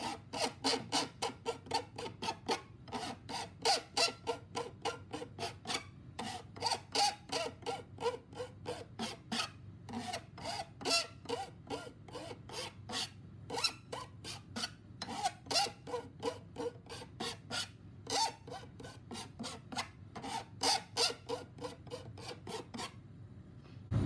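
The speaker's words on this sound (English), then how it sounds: "just check the underside to see if I feel a burr or some sharp metal left there, and just file that down" Steady, rhythmic rasping of a metal file stroking along the edge of an intaglio printing plate, each pass a close, dry scrape repeated in quick even succession with brief pauses between runs.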